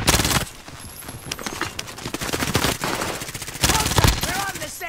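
Gunfire in a Call of Duty match on the Fortune's Keep map, with loud rapid automatic bursts and scattered shots throughout, close and sharp, mixed with game effects.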